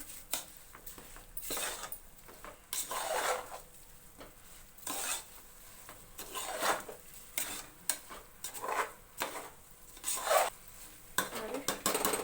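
A spoon scrapes and stirs rice mixed with tempering spices in a pan for tomato bath. The close strokes come in irregular bursts, with faint sizzling between them.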